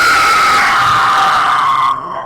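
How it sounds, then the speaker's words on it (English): Demogorgon screeching howl sound effect, a loud sustained piercing shriek with a harsh tonal edge, slowly falling in pitch before cutting off abruptly. "the Demogorgon, again, unleashes its screeching howl"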